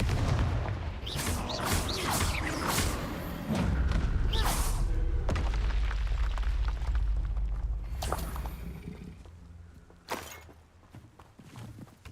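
Booming blasts and heavy thuds from the Confringo fire blast spell in the video game Hogwarts Legacy, a loud dense cluster of impacts early on that thins into scattered bursts before one last sharp hit.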